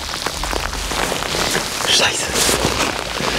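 Rain falling outdoors at a riverbank during a fishing session, a dense steady hiss of drops striking water and surfaces, loud and continuous throughout.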